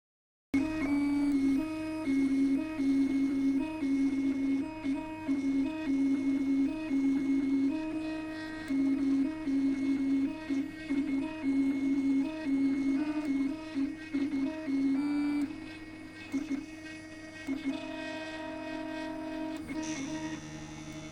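A Cellink X6 bioprinter lays down two layers of soft material, its steady mechanical hum and whirring motor tones running close and continuous, with small shifts in pitch as the print head moves.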